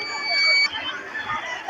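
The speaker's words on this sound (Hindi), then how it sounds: "अलार्म में जो बजर है वो बजने लगता है" A disaster-alert buzzer alarm on a school science-exhibition project sounds as a steady electronic tone, loud and close, over the background babble of a busy exhibition hall.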